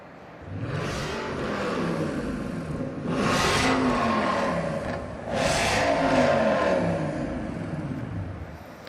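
The 420-horsepower V8 of the Infiniti Emerg-E concept car revs in three loud rising surges, each climbing and falling away, with brief lulls between them.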